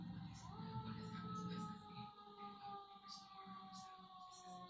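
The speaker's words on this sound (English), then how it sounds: "I don't know why there's so many sirens outside." A distant siren wails faintly outside, its tone holding and shifting, with muffled background noise throughout.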